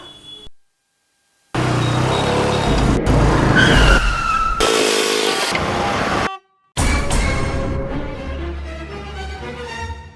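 A car skids to a stop with a loud, sustained tyre screech and engine roar, broken by a brief silence, then more vehicle noise and a horn-like toot close by.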